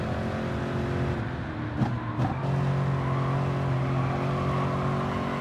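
Car engine in the racing game Gran Turismo Sport, a continuous loud drone rising in pitch as the car is eased onto the throttle, with a brief dip partway through and no speech.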